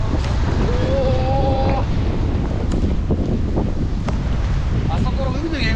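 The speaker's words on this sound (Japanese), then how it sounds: "結構土砂降りだなこれ" Heavy rain pours down with strong wind buffeting the microphone at the seaside in Kamakura, a steady loud broadband roar throughout, with people exclaiming and talking over it.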